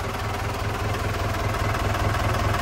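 A Ford F1000 truck's 229 turbo diesel engine idles steadily at close range, a continuous low, rumbling drone with an even pulsing rhythm and a faint turbo whine above it, heard alone with no talking.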